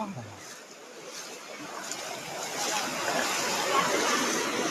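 Floodwater after rain rushes through a village from its pond, a steady broadband wash of flowing water that builds slightly louder over the clip, with faint voices in the background.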